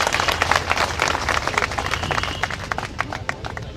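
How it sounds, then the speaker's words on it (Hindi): A crowd at a potters' community sit-in protest applauds to welcome a candidate, uneven clapping from a nearby group, busy and loud at first, then thinning toward the end. "जोरदार ताली से स्वागत कीजिए पूजा जी का।"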